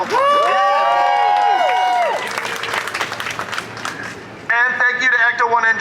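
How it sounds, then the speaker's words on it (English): Crowd applause and cheering at a Ghostbusters Day 2023 gathering with an ECTO-1 replica car, a dense burst of clapping and whoops that fills the clip, mixed with voices and a strong tonal sound near the start. "give them a round of applause."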